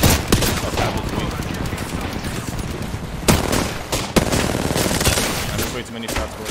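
Heavy gunfire in the video game Apex Legends, continuous rattling bursts of rapid shots with sharper louder cracks, close and dense, with voices talking over it.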